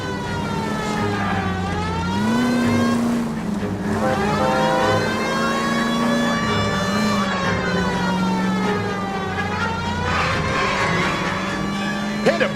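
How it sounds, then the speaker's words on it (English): Car chase in the video game L.A. Noire: a loud engine revving and accelerating under a wailing police siren that rises and falls continuously, the siren dominating throughout. "Get in and drive. Damn it, get after him, Cole."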